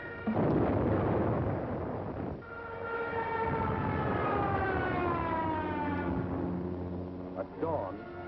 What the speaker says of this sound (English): German bombs told the Yugoslavians they were at war with Germany